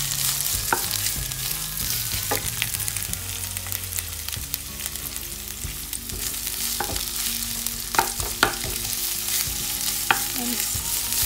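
Onions fry in oil in a pan with a steady broadband sizzle, punctuated by a few sharp clicks of stirring and utensil taps, close and moderately loud throughout, with no voices.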